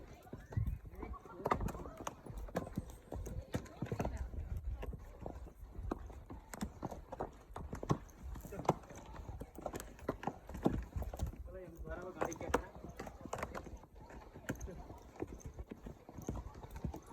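Horse hooves clip-clopping steadily on a trail ride in Pahalgam, Anantnag District, a continuous near rhythmic beat of hoofsteps throughout with people chatting over it.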